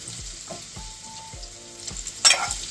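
Bitter gourd pieces fry in a pan with a steady sizzle, punctuated by soft rhythmic thumps of stirring and a sharper spitting burst near the end, heard up close without speech.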